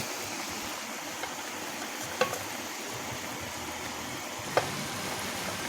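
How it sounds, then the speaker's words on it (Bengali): Rui fish curry broth bubbles in a village-style pot with a steady, hissing rush, and two sharp clicks from the utensil stand out above it. "ঝোলটা ফুটে গিয়েছে এবারে মাছগুলো ছেড়ে দেব"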